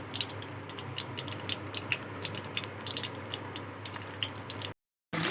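Stuffed bitter gourds deep frying in hot oil give a dense, steady crackle of fine popping and spitting, close and continuous, cutting out abruptly near the end, with no voices.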